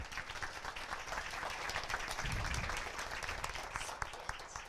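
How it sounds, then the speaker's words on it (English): An audience gives a speaker a burst of applause at a livestreamed event, steady dense clapping lasting several seconds at moderate distance, swelling slightly in the middle before tapering. "A warm applause for you"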